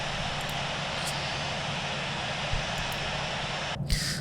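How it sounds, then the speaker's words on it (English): Airbus A320 engine number 2 spooling up during startup in the Infinite Flight simulator, a steady broadband roar with low rumble that holds evenly throughout, with a brief brighter whoosh near the end. "right about here, we're going to start engine number 2 now"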